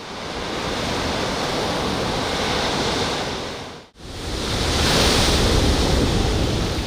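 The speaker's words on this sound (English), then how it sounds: "The waves are no longer breaking offshore. They now strike directly against the foundation." Ocean waves striking directly against the sea-wall foundation of Osu Castle on the Accra coast, a loud, steady roar of surf and wash with a brief lull before the next surge.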